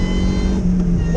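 Supercharged Vauxhall VX220 accelerating on the Nurburgring, a loud, close engine drone rising briefly in pitch, with a voice talking over it.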